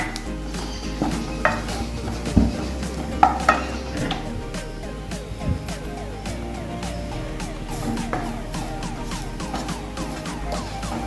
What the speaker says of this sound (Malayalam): ഈ പൊടികളുടെ പച്ചമണം മാറണ വരെ ഒന്ന് ഇളക്കി കൊടുത്തിട്ട്